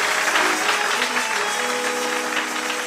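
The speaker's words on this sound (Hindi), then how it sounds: "तो आए हम जोरदार ताली लगा के फिर से प्रभु का धन्यवाद करें।" A church congregation breaks into loud, sustained applause, many hands clapping together in a dense continuous wash, with faint tonal sounds underneath.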